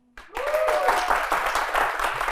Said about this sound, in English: Great, give applause.